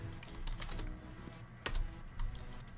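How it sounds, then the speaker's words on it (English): Typing on a computer keyboard while looking up a product listing, a steady run of close key clicks with a sharper burst in the middle, no speech. "Let's type"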